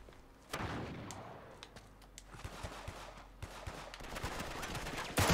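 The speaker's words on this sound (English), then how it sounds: "Bro, I'm shooting this guy's face." Gunfire in the video game Uncharted 3: Drake's Deception, with scattered sharp shots and short bursts over a steady background rumble, fairly quiet, ending in a louder blast.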